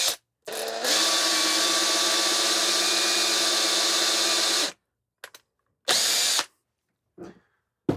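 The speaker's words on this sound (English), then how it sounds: "this is where the cordless drill comes in" A cordless drill spins wire strands together to make HO scale model railroad trees, whirring steadily for about four seconds before stopping, followed by a few short bursts of the motor.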